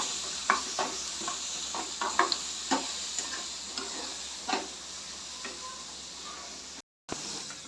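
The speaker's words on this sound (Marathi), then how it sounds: "जास्ती डाळ मारतं म्हणून थोडंसं तेलात फ्राय करून घे" A ground spice paste for vada pav fries in hot oil. The sizzle holds steady with repeated stirring clicks and scrapes, and it breaks off in a short gap of silence near the end.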